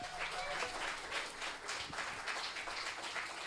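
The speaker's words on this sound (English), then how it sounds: "I appreciate the preemptive clapping." An audience claps at a live music show in Bishop Hill, with moderate, steady applause that carries on for several seconds, slightly distant and fairly quiet.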